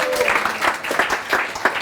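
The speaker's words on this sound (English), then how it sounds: "Give him a round of applause for that." A short burst of applause from a sales mastermind event audience, scattered claps in an uneven rhythm, close and fairly loud.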